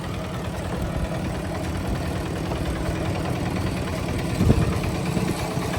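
A farm tractor engine idles with a steady, even chugging throb that stays close and constant throughout, with a brief louder knock near the end.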